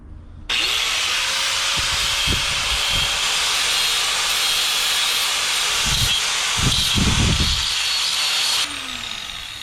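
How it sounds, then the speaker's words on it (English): A power tool deburrs a metal horn mounting part for a 1970 C10, running as a loud, steady high-pitched whirring grind for about eight seconds, with thumps of contact against the workpiece, then spinning down. "Let's do a little deburr."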